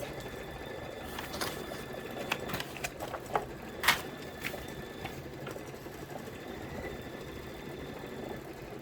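An embroidery machine stitches out a design on fabric, a steady mechanical whirr with rapid needle chatter and a few sharper clicks and taps along the way, moderately quiet and close, with no talking.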